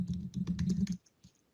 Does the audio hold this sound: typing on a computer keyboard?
yes